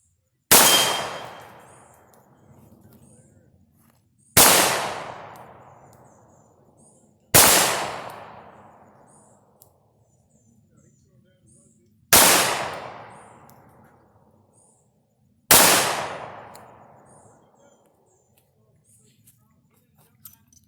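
Five loud revolver shots fired one-handed double action with 4.5-grain Bullseye powder loads, each a sharp crack with a ringing decay, spaced a few seconds apart.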